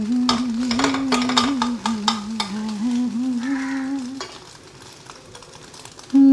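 Egg frying in a pan for hakka chowmein, with steady close sizzling and frequent spatula stirring and scraping clicks; a melodic singing voice runs over most of it before the sizzle drops away near the end.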